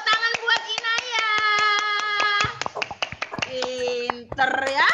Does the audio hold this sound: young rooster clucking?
no